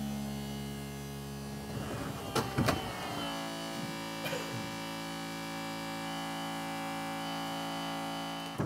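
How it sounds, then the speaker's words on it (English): The hydraulic pump of a Mercedes R170 SLK Varioroof convertible keeps running without shutting down as it tries to force the rear locks closed: a constant electric hum and whine, with a few clicks and clunks early on. "You can tell he won't stop pumping because he keeps trying to forcefully close the rear locks."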